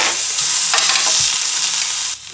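Meat frying in a pan while ramen is being prepared, giving a loud, steady broadband sizzle with a few stirring scrapes. It continues without a break, then drops off sharply near the end.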